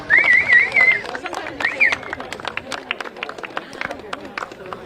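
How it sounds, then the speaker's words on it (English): A crowd at a polo match gives scattered applause, a steady patter of many claps that continues under someone speaking over a loudspeaker, with a few faint hoof-like thuds mixed in. "A round of applause if you please."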